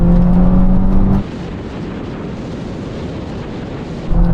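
Honda Civic Type R cars accelerating hard in a drag race, a loud engine drone that drops sharply into heavy wind buffeting on the microphone before the engine note returns.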